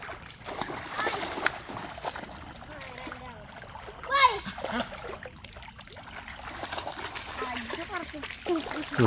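Leo the dog splashes in water, with one sharp splash standing out midway among smaller sloshing sounds while people talk and call out nearby.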